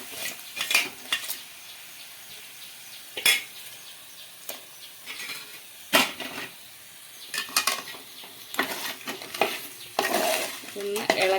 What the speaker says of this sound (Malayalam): ഇനി നമ്മൾ എടുത്തു വെച്ചിരിക്കുന്ന ഞണ്ട് ഇതിലേക്ക് ഇട്ട് കൊടുക്കാം.